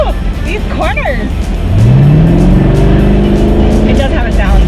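Mazda Miata convertible engine rising in pitch as it pulls through corners, loud and close, with voices talking and cheering over it.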